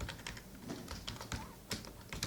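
Rapid, irregular keystrokes on a computer keyboard, close and clear, clicking in uneven bursts with brief pauses and faint speech in the background.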